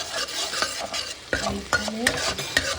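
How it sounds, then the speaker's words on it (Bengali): Curry leaves crackle and sizzle as they hit hot oil for tempering, with a steady frying hiss broken by sharp spattering bursts and stirring clatter close by. "এখানে কারি পাতা ফোড়ন দিয়ে আমি"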